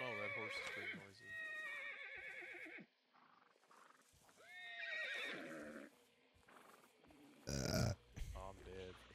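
Loud, wavering neighs from a horse in a multiplayer video game, with several whinnies separated by quieter stretches of game sound, a few snorting grunts, and a sharp burst of noise near the end.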